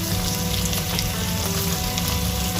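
Onion, green chili and curry leaves fry in hot oil with mustard seeds, giving a steady, close sizzle with soft crackling throughout and no voices.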